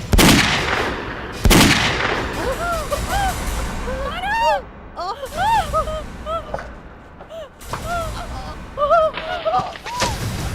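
Gunfire in a Hindi TV crime drama scene: several sharp, loud shots burst out early, followed by scattered cracks amid tense shouting voices and music.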